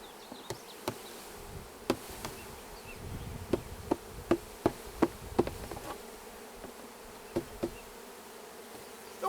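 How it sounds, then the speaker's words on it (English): Honeybees buzzing as they are knocked down into a hive box, a continuous low insect hum punctuated by a series of sharp knocks and taps in the middle, fairly quiet and close. "we're gonna knock these bees in"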